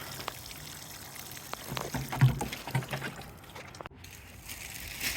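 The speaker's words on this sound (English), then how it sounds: "Give them a little drink of water." Water poured from a small container onto two healthy, slow-growing garden seedlings, a soft close trickle lasting a few seconds with light splashing, no talking.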